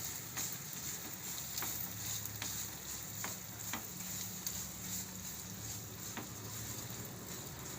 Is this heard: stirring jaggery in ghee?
yes